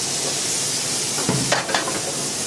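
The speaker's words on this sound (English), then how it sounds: "what we have here is the alcohol burning off" Coq au vin in a hot pan sizzling steadily as alcohol cooks off, a loud, dense hiss with a couple of brief scraping stirs midway.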